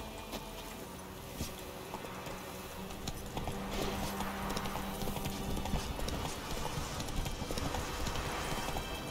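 Horse hooves clip-clop steadily through the game world of The Witcher 3 as Geralt's horse trots closer, a continuous rhythmic hoofbeat over a busy background of ambient game sound.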